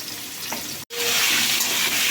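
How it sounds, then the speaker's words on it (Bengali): Potato, pointed gourd and carrot fry in a pan with a steady, close sizzle that breaks off for an instant, then resumes just as loudly. "এবার একটু ভালো করে ভেজে নিচ্ছি একটু লাল লাল করে ভাজবো"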